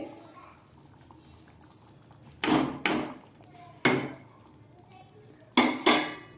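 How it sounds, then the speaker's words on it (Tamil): Paneer going into a pan of kurma and being stirred, with sharp metallic scrapes and clinks of a spoon against the pan in separated bursts over a quiet background, close by. "இப்போது பன்னீரை சேர்த்து ஒரு கிண்டு கிண்டு விட்டுடலாம்"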